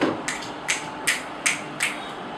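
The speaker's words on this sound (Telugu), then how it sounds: "మన వైస్ ప్రెసిడెంట్ గారికి చిటికలు" Finger snaps from a group at a BNI chapter business meeting, about five sharp crisp clicks at a slightly uneven spacing against a quiet room.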